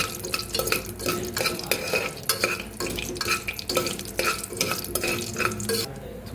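Cumin seeds frying in tempering oil for sambar, with rapid repeated spatula scrapes and clinks against the pan over a low sizzle, close and busy.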